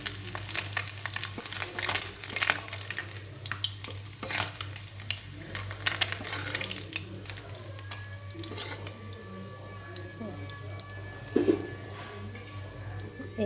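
Fish frying in a generous amount of hot oil in a pan, with a steady crackling sizzle and small pops that run close and continuous throughout, with no talk over it.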